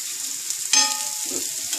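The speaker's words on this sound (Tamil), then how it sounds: "திருப்பி போட்டு நல்லா மொறு மொறுன்னு பொரிச்சு எடுக்கணும்" Bitter gourd pieces fry crisp in oil on a tawa, with a brief close sizzle and a sharp clatter as they are turned partway through.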